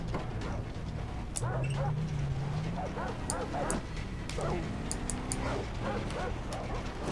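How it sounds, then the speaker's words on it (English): Barks and whimpers from attacking dogs in Far Cry 3 come in irregular bursts, close and loud over a steady game soundscape with a sustained low tone and occasional speech. "I think I'm getting eaten by dogs."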